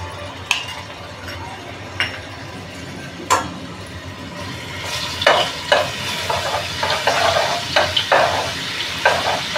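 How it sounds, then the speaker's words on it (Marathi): Garlic and ginger paste frying in hot oil for anda bhurji, with a spatula stirring and clinking against the pan; a soft sizzle swells into louder bursts of crackling in the second half. "आता आपण लसूण आणि आल्याची पेस्ट घालू"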